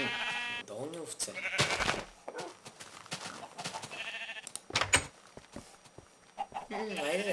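Minecraft sheep bleat among other farm animal calls such as chicken clucks in the video game, several short wavering cries scattered through the clip, mixed with someone talking over them.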